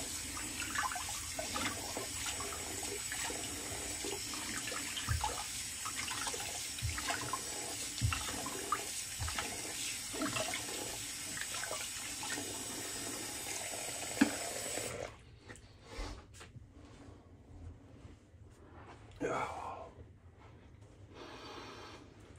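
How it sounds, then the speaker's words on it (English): Cold tap water runs steadily to rinse alum off a freshly shaved face, a close continuous splashing hiss that cuts off about two-thirds through, followed by quieter splashes and handling. "let's go to cold water again and get this alum off."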